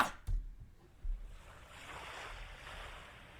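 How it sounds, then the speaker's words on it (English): Soft, continuous wash of water and waves near the remains of the former Newark Bay Bridge, with a couple of faint low thumps early on and no talking. "I'm hearing water and a bell."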